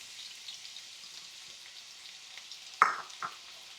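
Onions sauté in a hot cast iron skillet over medium heat with a steady, soft sizzle. Near the end come a couple of louder crackling bursts, close by, and no one speaks.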